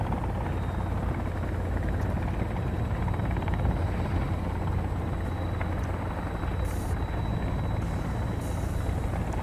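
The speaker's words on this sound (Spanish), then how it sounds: "Yo estoy en un helicóptero, no sé quién va en el otro." A video game helicopter's rotor drones steadily and loudly throughout, a constant low thrum with engine whine above it and no talking, in Sons of the Forest.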